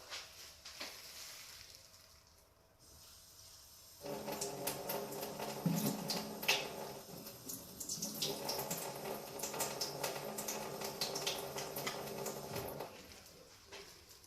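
Water running from a tap to rinse off a wood stain, starting softly and then pouring steadily and louder for several seconds before easing off near the end, heard alone without talk.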